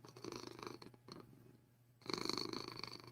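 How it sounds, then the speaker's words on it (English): A cat purrs softly and close up in a quiet room, a low rumbling buzz that pauses briefly mid-breath before resuming more strongly. "You're purring? Are you purring?"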